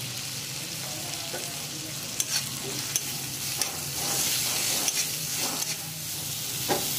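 Spice masala with tomato fries in a pan for Bengali-style ghugni, with a steady sizzling hiss and periodic scraping clicks of a spoon stirring, close and continuous without speech.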